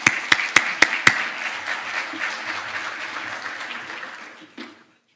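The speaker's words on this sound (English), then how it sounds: "Round of applause, please." Audience applause breaks out after a Royal Canadian Mounted Police constable is invited to the microphone at a community association's annual general meeting, opening with a few sharp claps, swelling into steady clapping and fading out after about four seconds.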